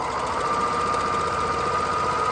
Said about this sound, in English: Lower my presser foot, and it's going to cut off this end